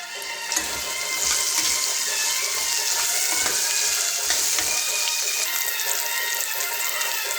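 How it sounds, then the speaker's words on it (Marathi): Sliced onions sautéing in hot oil in a pan for spiced potato rice, giving a steady, continuous sizzle and hiss close up with faint clinks, no talk. "चिरलेले कांदे घालून परतून घ्यायचे."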